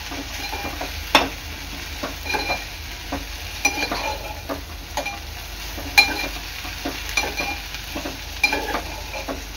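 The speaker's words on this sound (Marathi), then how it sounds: "भेंडी चांगली कांद्यात मिक्स करून घ्यायची आहे।" Okra stir-fried with onions in a pan for bhendi bhaji: a continuous low sizzle broken by repeated scrapes and knocks of a spatula against the pan at an irregular rhythm, close and unaccompanied by talk.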